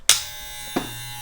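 An Andis Master hair clipper switches on and runs with a steady, smooth electric buzz, close up, with a small bump partway through.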